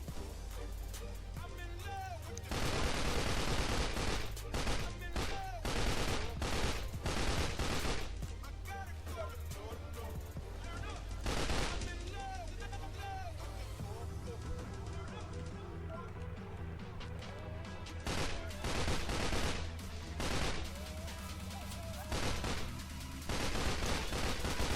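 Rapid bursts of gunfire in the blocky shooter game Blockstorm crackle in quick succession, some long sustained volleys and some short sharp shots, loud and dense, with a voice talking over them at times.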